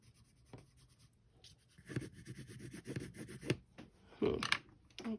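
Colored pencil, likely purple, scratching across paper in short irregular strokes for an abstract drawing, close and fairly faint, growing busier and louder toward the end.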